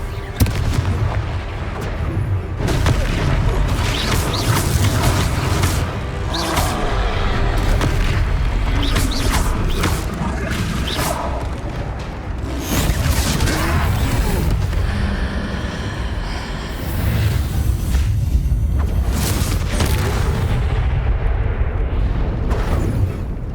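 Confringo spell explosions strike a troll in the Hogwarts Legacy video game, a dense run of loud, booming blasts and impacts that roll on continuously with heavy low rumble throughout.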